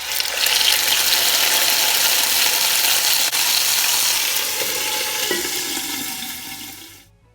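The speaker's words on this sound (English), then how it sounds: "we are going to be browning the beef" Marinated beef browning in a pot for a pot roast, a loud, steady rushing sizzle that eases slightly toward the end before cutting off abruptly, with no talking.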